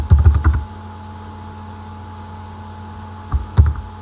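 A password goes in on a computer keyboard during a MySQL install: a quick burst of close, crisp key clicks, a quiet pause, then a few more taps at the end.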